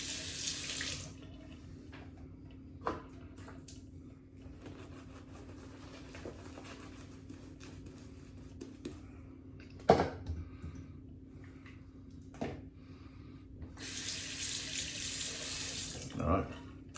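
A bathroom sink tap runs during a straight razor shave, water splashing in short bursts at the start and end with a quieter steady trickle between, plus a few clinks and knocks.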